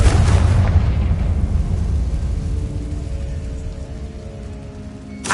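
Confringo fire spell explosion in Hogwarts Legacy: a loud, deep boom at the start that rumbles and decays slowly over several seconds, with a faint pop near the end.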